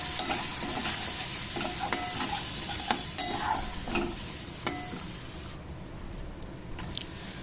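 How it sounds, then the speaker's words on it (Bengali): Spice masala for a gram flour vegetable curry sautés in a pan with a little water over medium heat, a close, continuous sizzle broken by repeated scraping and stirring strokes, no voices over it. "এবার আমি এটাকে অল্প একটু জল দিয়ে খুব ভালো করে মাঝারি আঁচেতে কষাতে থাকবো"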